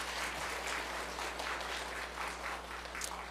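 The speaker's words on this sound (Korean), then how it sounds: "박수로." Congregation applauding during a Sunday church service for the city mayor and guests, steady moderate clapping throughout with a low hum underneath, heard from within the room.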